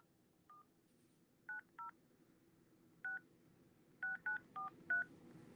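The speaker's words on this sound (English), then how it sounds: "Let me call her from the 15." An iPhone 15 keypad sounds a string of short dialing tones, eight beeps in uneven clusters, faint and close, over a low background hum.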